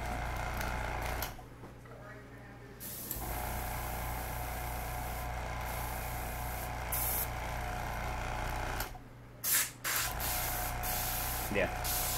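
Cleaner is sprayed through an airbrush before painting, heard as a continuous airy hiss broken by short pauses and a few quick bursts.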